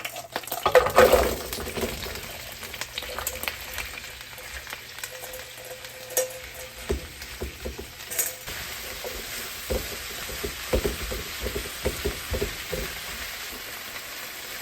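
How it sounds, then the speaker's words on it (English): Vegetables saute in oil in a pan, with a soft background sizzle broken by frequent clinks and scrapes of stirring against the pan, close and fairly quiet. "Hit this pan with a little oil. And now we'll saute our veg."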